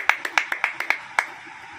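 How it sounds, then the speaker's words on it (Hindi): A church congregation claps along at a Hindi-language Christian service, giving a quick run of sharp hand claps in a steady rhythm that thins out and fades. "ताली बजाओ"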